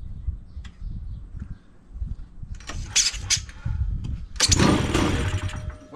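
A flooded two-stroke engine on a junk drift trike tries to start after being cranked, with two short rough bursts of engine noise rising over a quiet, rumbling background.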